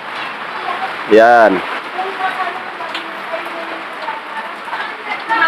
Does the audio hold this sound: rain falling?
yes